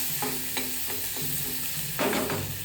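A small onion hits hot oil seasoned with hing and turmeric on a lowered gas flame and sizzles steadily, with several close scrapes of stirring breaking through the frying hiss.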